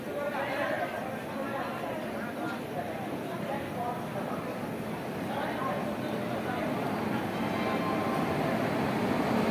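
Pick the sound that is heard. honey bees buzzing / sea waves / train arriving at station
train arriving at station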